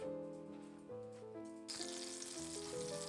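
Butter sizzling in a small frying pan, a soft hiss that swells abruptly partway through and continues steadily under background music, fairly quiet and close.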